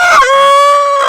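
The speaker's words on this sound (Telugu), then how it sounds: "చూడండి ఈ 2 కోళ్ళు" Native country chickens in a village, with one loud, close, sustained drawn-out call lasting about a second and holding a steady pitch, heard alone.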